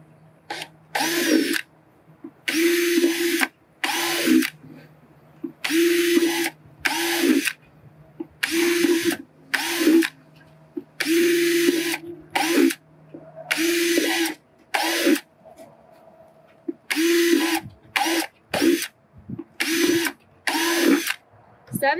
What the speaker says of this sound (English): then you're going to drill holes